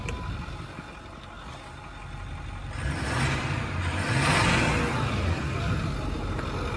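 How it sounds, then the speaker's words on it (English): A 2009 Ford F350 XLT pickup with a 6.4 L diesel V8 idles under the open hood, then is revved so its note rises and swells louder before holding at a higher pitch. "Give it a little gas just to hear that."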